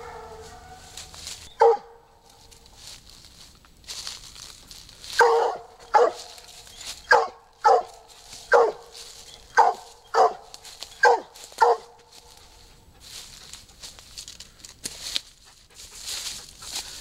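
A Bluetick coonhound barks on a wooded trail while tracking, first a lone bark and then a run of about ten evenly spaced, loud baying barks close by, with quieter rustling between them.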